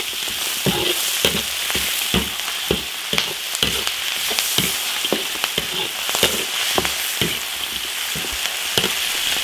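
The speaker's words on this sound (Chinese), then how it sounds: "排骨下锅煸炒， 生姜、大葱、香料、干辣椒、花椒、辣椒酱炒香" Pork ribs stir-fry in an iron wok with ginger, scallion, spices, dried chilies, Sichuan peppercorns and chili paste, giving a steady loud sizzle broken by frequent sharp scraping strokes of the spatula against the wok.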